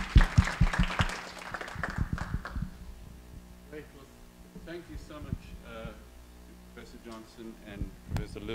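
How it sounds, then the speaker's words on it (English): Audience applause at a university scholar-in-residence lecture, a burst of clapping in the first few seconds that fades into a murmuring room with scattered noises. "Let's have a round of applause for Professor Nixon."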